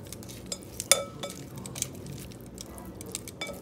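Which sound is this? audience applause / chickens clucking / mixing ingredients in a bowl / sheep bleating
mixing ingredients in a bowl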